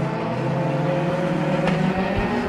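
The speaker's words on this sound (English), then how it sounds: "That 13 machine, you can hear it when it went down the front straightaway." A race car roars down the front straightaway at Bakersfield Speedway, a steady loud engine drone passing near, with a brief sharper burst toward the end.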